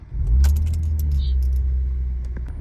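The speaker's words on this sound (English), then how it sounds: "we are going to put the key in the ignition and turn it over" A manual transmission car started with its ignition key: a brief jingle of keys, then the engine catches and settles into a steady, close idle rumble with no talking.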